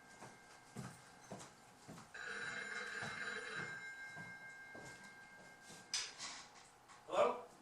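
Backstage at a theatre production, a telephone bell rings faintly for a couple of seconds amid soft background voices and shuffling, then fades as quiet talk continues.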